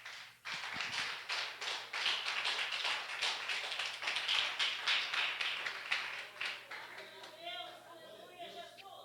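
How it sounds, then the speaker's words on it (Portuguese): Congregation clapping during an evening teaching service in a church, a dense run of sharp hand claps from about half a second onward that thins out near the end as voices and singing-like tones rise underneath. "As palmas que engrandecem o Senhor"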